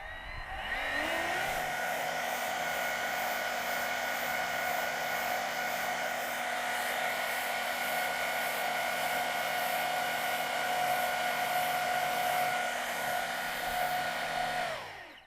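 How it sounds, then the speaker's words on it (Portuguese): A fan pushing air and smoke out through a nozzle in a Coanda-effect drone propulsion demo: a continuous whirring blower tone that spins up and then holds steady for about fifteen seconds, close and fairly loud. "o que eu posso fazer é fazer o ar passar pelo ventilador e devemos ver um jato de fumaça saindo desse bico"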